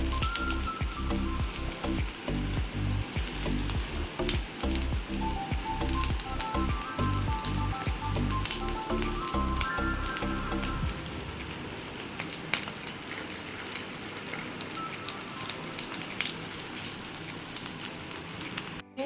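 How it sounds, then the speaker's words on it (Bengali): An egg sizzling as it fries in a pan for a homemade breakfast, a steady crackling hiss with sharp pops and clicks through the first half before it thins out and grows quieter. "এটাকে আমরা ভালো করে এপাশ ওপাশ করে ভেজে নেব।"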